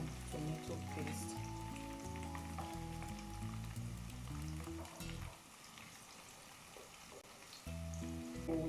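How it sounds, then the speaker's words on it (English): Fish boiling in a pot for rice and fish stew gives a soft, steady bubbling and sizzle that sits under louder background music and thins out briefly midway. "My fish is here boiling, which I think is so okay."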